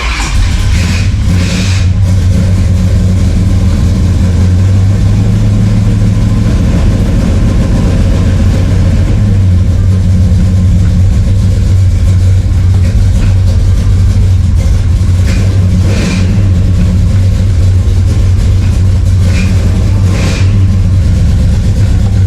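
A 1969 Dodge Charger's cold V8 engine runs loud and close, with a steady rough idle broken by several revs that rise and fall across the whole stretch.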